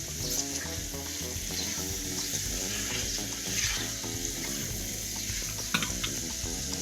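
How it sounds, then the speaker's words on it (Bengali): Fried potatoes are stirred into spice masala in a pan, with a steady sizzle and repeated scraping and stirring noises close by. No one speaks. "এখন আমি ভেজে রাখা আলুগুলো দিয়ে দিচ্ছি মশলার ভিতরে, ভালো করে কষিয়ে নিয়ে মশলার সাথে আলুগুলো মিক্সড করে নিয়ে"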